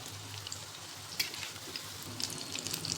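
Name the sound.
dal vada snacks frying in oil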